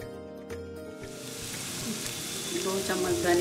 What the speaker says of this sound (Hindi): अब इसमें हम प्याज और लहसुन डालेंगे।